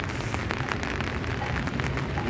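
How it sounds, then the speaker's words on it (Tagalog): Steady rain falls beside the Pasig River where anglers are fishing, a dense continuous hiss of drops close by with no talking over it. "Ulan na mga katoy."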